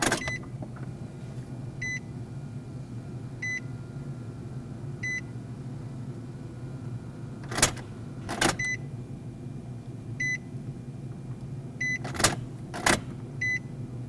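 Nissan Frontier ignition key cycled on and off to prime the fuel pump: a steady low hum with a run of evenly spaced soft warning chimes and two pairs of sharp relay clicks.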